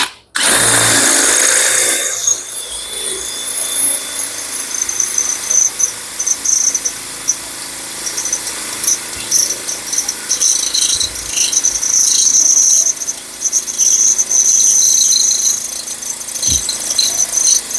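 A power drill boring a hole through steel on car fenders being made into spider-web art, a loud, continuous high-pitched grinding whine that runs almost unbroken for the whole stretch.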